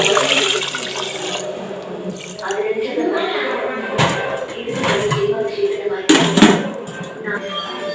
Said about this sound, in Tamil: கறி முழுகிற அளவுக்கு தண்ணி சேர்த்துக்கலாங்க